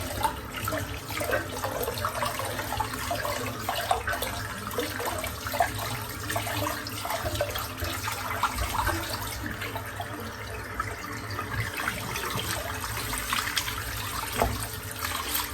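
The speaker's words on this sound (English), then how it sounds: "All I'm going to do here is just empty the sink out because it's full of hair." Steady gurgling rush of water draining from a sink full of shaved hair, continuous and close, with a constant hiss and low rumble throughout, no voices.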